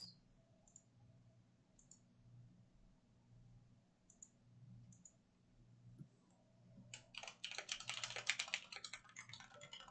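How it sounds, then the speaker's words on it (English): Typing on a computer keyboard, faint scattered clicks at first that build into a quicker, denser run of keystrokes toward the end over a low room hum. "Is he typing?"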